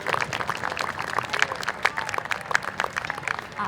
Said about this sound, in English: Please give them another round of applause